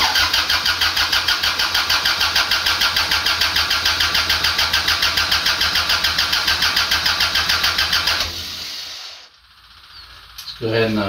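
A John Deere 430 garden tractor cranks with a rapid, steady rhythmic churning for about eight seconds before it cuts out, followed by a short quiet spell and a brief restart noise, all loud and close.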